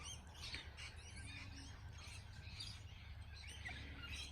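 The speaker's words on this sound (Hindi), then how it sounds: "जिन तोतों का हम जिक्र कर रहे थे वो आए हैं" Small parrots visit a bird bath in the evening to drink, giving faint, scattered squawks and chirps over a low, steady background hum.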